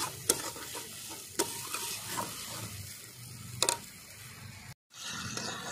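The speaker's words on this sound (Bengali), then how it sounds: "মশলা ভালো করে ভেজে নিয়েছি" Spices frying in a pan for a chicken curry with whole garlic, onions and small potatoes: a soft continuous sizzle broken by a few sharp scrapes of a spatula stirring, then a brief drop to silence.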